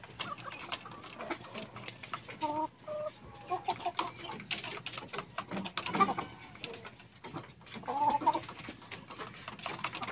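Backyard poultry chickens clucking and calling nearby, a steady stream of short, overlapping clucks and a few louder squawks heard with no talk.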